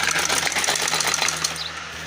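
A sewing machine stitching cotton fabric runs steadily at close range with a fast, continuous mechanical whir and patter throughout.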